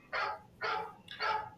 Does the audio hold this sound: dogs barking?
yes